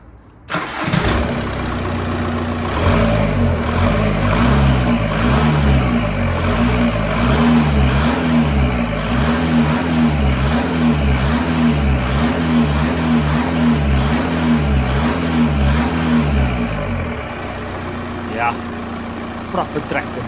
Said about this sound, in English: Let's take a listen how the car sounds without an air filter.